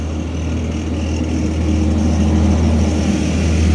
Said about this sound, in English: I'm gonna let the truck go by.